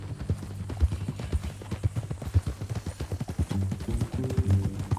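Horse hooves clip-clopping at a steady walking rhythm in Red Dead Redemption 2, close and distinct thuds with a brief stretch of low background tones.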